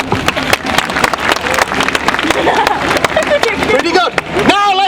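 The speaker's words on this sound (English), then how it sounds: "So first, let's try clapping." A theater audience claps in a dense burst that fills most of the moment, with a few louder cheers rising near the end before a voice takes over.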